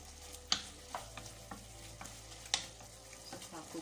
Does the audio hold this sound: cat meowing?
no